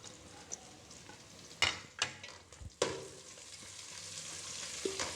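Green chillies sizzle and fry in a pan of spiced keema with garam masala. A steady hiss runs throughout, broken by several sharp scraping stirs of a spoon. No voices are heard.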